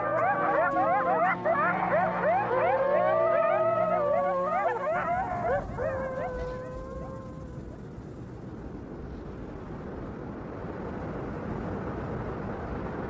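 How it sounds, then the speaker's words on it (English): Coyote pack in Yellowstone giving a group howl, many overlapping yips and wavering howls rising together, loud and close, then fading out into steady wind or road-like rumble. "This group howl means they're all still buddies."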